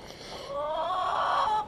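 Squawking hens in a coop, one drawn-out rising squawk that swells in the middle over softer background clucking, close by and steady for under two seconds.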